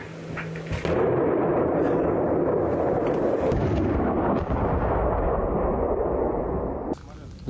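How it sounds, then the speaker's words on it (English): Russian tank and infantry fighting vehicle firing at point-blank range in a contested village, a heavy blast followed by sustained rumbling, roaring gunfire and reverberating booms filling several seconds, with a sharp crack at the end. "a Russian tank and an infantry fighting vehicle. They open fire at a point-blank range"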